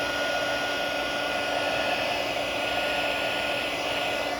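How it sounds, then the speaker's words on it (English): Embossing heat gun with two heat levels blowing hot air in a steady, loud whooshing drone, close up and continuous without talk, while melting embossing powder on a stamped card. "So let me talk to you again about this embossing gun I was talking about."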